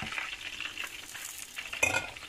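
Pork and beef meatballs browning in a pan: a steady close sizzle and frying hiss with light scraping of a utensil stirring, no talking.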